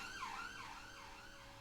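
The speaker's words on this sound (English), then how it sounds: "we're going to ignore those sirens going past" Emergency vehicle sirens wail past near a roundabout, a rising and falling tone that stays steady and moderately distant for the whole moment, with no other sound on top.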